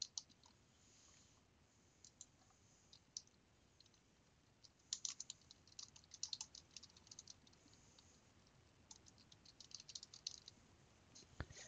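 Computer keyboard typing a library catalog search, rapid irregular key clicks in short bursts, quiet and close, with no talking.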